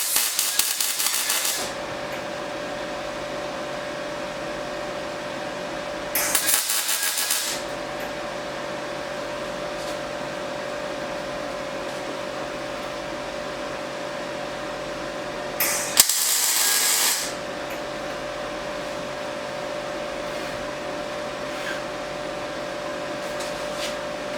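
A welder tacks a BMW E38 front subframe in place with three short bursts of crackling arc noise separated by pauses, over a steady hum in the garage.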